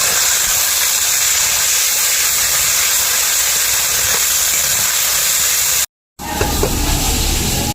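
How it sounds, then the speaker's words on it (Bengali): Spices with turmeric and chopped tomato fry in oil as a loud, dense, continuous sizzle. It breaks off for a brief moment, then returns. "এবার মশলাগুলি ভালো করে তেলের সাথে কষিয়ে নেব"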